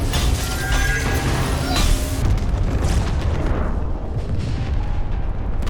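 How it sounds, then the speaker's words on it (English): A massive, sustained explosion roars with deep rumbling and crackling debris, loud and close, slowly settling over several seconds. "at that moment, a massive explosion occurs"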